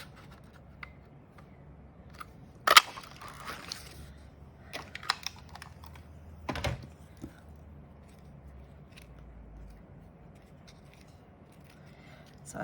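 A paper punch stamps shapes out of card for a Christmas cutlery holder craft: two sharp, close clunks a few seconds apart, with faint rustling and handling between them.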